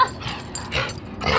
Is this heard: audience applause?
no